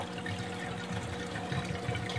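Water pouring steadily through a 1.25-inch PVC overflow pipe with a slotted silencer at about 655 gallons per hour, a constant close rushing gurgle with no voices.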